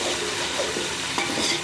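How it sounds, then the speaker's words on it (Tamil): Tomatoes sautéed in a pan for chicken dum biryani, giving a steady close sizzle with light stirring and scraping throughout and no voices. "தக்காளி போட்டு நல்லா வதக்கிக்கலாம்"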